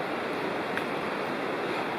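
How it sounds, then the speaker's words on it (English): Big Creek in the Great Smoky Mountains rushes below an old trail road, a steady, broad, unbroken roar of flowing water heard from a distance with no voices. "And down there you can hear Big Creek"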